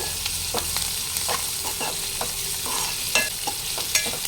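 Spiny gourd curry with turmeric stirred in a pan, with a steady low sizzle and a string of close scraping spoon strokes at an even pace, and no talk.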